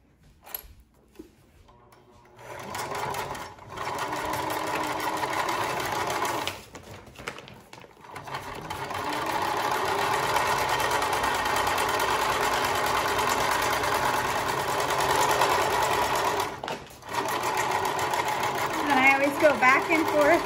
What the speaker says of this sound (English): first thing we're gonna do with our sewing machine is we're gonna sew right across